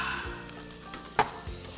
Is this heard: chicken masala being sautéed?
yes